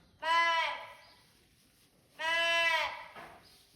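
Sheep bleat during lambing, with ewes and newborn lambs in the flock: two loud, close, drawn-out bleats about two seconds apart, each trailing into a softer tail, with no talking.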